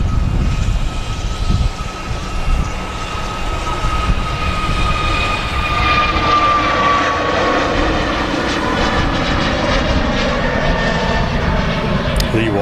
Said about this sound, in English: your A321neo now rolling in a long range